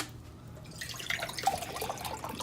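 Cold water, a cup and a half of it, poured over dry crazy cake ingredients in a mixing container, a moderate liquid splashing and trickling that starts after a quiet half second and continues steadily.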